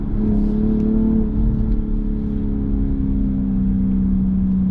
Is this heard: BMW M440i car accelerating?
yes